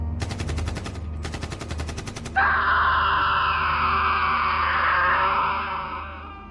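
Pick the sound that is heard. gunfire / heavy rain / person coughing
gunfire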